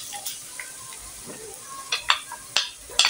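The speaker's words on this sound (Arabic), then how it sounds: "ندبلوها شويه في الزيت" Chopped onion softening in hot oil in a pan for a potato gratin filling, giving a quiet, light sizzle broken by sharp stirring clinks and scrapes of a utensil, with brief soft talk.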